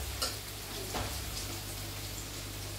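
Soft sizzle of food almost fried in a home kitchen pan, a faint steady crackle with a couple of brief stirring scrapes and no voices.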